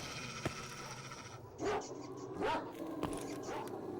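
Dogs in the video game S.T.A.L.K.E.R. give two or three short barks and yelps, at a moderate distance, among faint mechanical clicks and ambient game noise.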